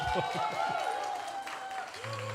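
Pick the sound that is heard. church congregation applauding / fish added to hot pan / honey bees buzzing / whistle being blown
church congregation applauding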